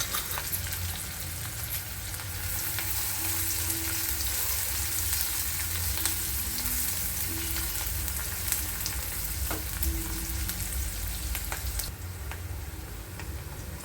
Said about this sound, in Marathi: कढीपत्ता थोडासा फ्राय झाल्यानंतर आपण त्यामध्ये कांदा घालून घेऊया आणि त्याला मिक्स करून 2 ते 3 मिनिट लालसर होईपर्यंत परतून घेऊया